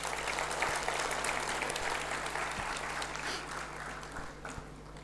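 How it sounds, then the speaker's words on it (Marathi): An audience at a business talk applauds participants, volunteers, seniors and award winners with steady, moderately distant clapping that holds evenly for several seconds with no voices over it. "सगळ्यांसाठी एकदा टाळ्या व्हायलाच पाहिजे"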